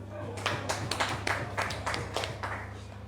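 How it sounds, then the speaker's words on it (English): Scattered hand clapping from a small audience at a book launch, individual claps audible in an uneven rhythm over a steady low hum, brief and moderately close. "Let's clap for that."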